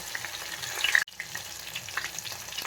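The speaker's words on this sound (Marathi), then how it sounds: "तेल तापलेलं आहे, मिरची घालू, टोमॅटो घालू, जिरं मोहरी घालू," Chillies, tomato, cumin, mustard seeds and curry leaves hit hot oil in a home kitchen pan for dal, giving a bright, crackling sizzle with a brief stir and spatter, close and steady.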